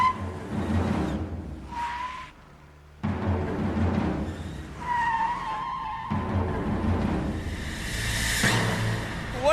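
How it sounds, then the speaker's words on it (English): A cartoon car engine revs loudly, then tires squeal in several long skids during a brake test, the screeches rising and fading over a steady motor rumble. "let's give these brakes a little test, shall we?"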